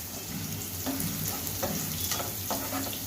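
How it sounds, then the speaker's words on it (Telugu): Onions fry in a pan for a spicy leafy-green and egg curry: a dense, continuous sizzle with repeated scraping stirs, close and fairly loud, no speech. "ఇప్పుడు ఉల్లిపాయలు వేగినాయి"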